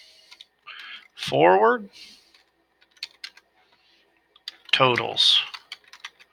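Quick bursts of key clicks on a computer keyboard while working in a spreadsheet, falling in the pauses between two short spoken phrases.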